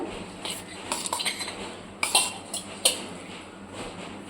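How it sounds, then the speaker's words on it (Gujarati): A spoon clinks and scrapes against a bowl while stirring dry spice mix for dudhi muthiya, a series of sharp irregular taps and chinks close by, with no talking. "હવે આપણે બધો મસાલો મિક્સ કરી દઈશું"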